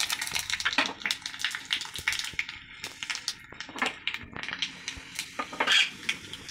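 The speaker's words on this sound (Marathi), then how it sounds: "तेल तापले आहे। आता आपण त्यात सगळं टाकूयात जिरे, मोहरी, मिरची," Cumin, mustard seeds and chillies crackle and pop in hot oil in a small pan while making bottle gourd chutney, with close, irregular spitting bursts mixed with light scraping of a utensil against the pan.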